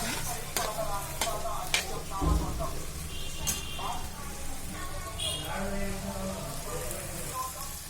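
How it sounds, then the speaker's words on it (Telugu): Vegetables frying in a pan and being stirred, a soft crackling sizzle with scattered clinks and scrapes of a utensil at moderate distance, with a voice speaking over part of it. "ఇప్పుడు వెజిటేబుల్స్ అయితే చక్కగా వేపేసుకున్నాం."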